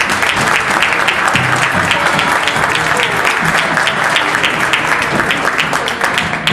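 Conference or school-event audience claps loudly for children from a school group, producing a dense, steady wash of applause that runs close and unbroken throughout.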